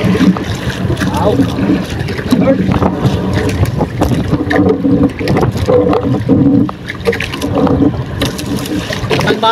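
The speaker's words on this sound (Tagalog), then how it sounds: "At malakas ang hangin." Strong wind buffets a small boat at sea off Camiguin, a loud, rough roar with gusty microphone rumble and splashing water, and voices talk over it now and then.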